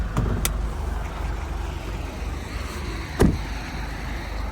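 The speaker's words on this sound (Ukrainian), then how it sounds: "Зараз автомобіль у нас заведений, мотор працює чітко, рівненько." A Renault Koleos 2.0 dCi 4WD diesel engine idles with a low, steady rumble, punctuated by a couple of sharp clicks and a brief knock partway through.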